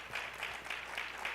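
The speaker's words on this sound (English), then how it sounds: "Give John a round of applause." An audience gives a round of applause for John at an education summit panel, a steady, moderately faint wash of clapping that holds evenly through the whole moment with no voices over it.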